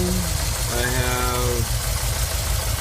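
A 1990 Volkswagen Vanagon engine idles low and roughly with a rumbling, slightly uneven throb, while a voice talks briefly over it.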